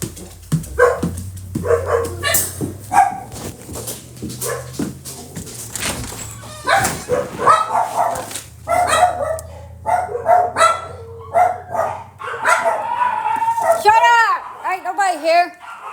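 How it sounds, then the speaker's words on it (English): Several dogs bark and yip in repeated bursts close by, with whimpering mixed in, while a person talks over and between the barks. "The dogs are barking."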